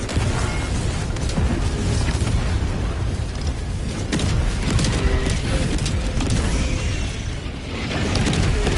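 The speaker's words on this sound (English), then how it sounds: "drop a napalm barrage" Napalm barrage striking in Helldivers 2, a dense, continuous roar of overlapping booms and fiery bursts filling the whole stretch at high loudness with no pauses, heard alone without talk.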